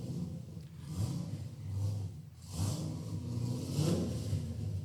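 Car engine revving and rumbling as it pulls in at an Optima Ultimate Street Car event, steady mid-range drone rising in two or three surges of throttle, fairly close and with no talk.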